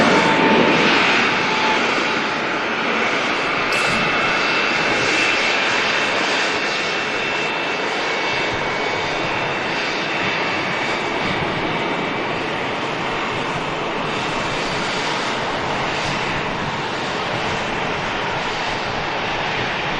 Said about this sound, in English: So, got this Ryanair 737 on the taxi out